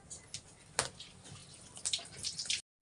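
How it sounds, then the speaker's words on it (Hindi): Gaderi (taro root) being washed with hot water outdoors, giving soft splashing and sloshing with a few sharper pours and drips at close range, with no talking. "तो अब गडेरी को गर्म पानी से ये धोया जाएगा।"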